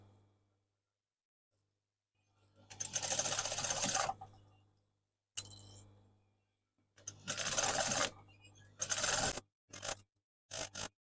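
A sewing machine back tacks over elastic on a denim jacket in several short motorized bursts of rapid stitching, separated by quiet pauses, the final runs only brief stutters.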